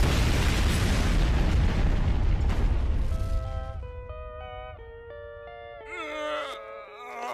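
A loud, roaring cartoon nuclear explosion rumbles for about three seconds, then fades into whistling, tonal musical effects.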